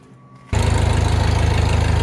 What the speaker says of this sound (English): We'll see if this will fire up.